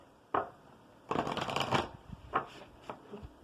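Tarot cards being shuffled in several quick riffling bursts, close and fairly loud, with short pauses between them.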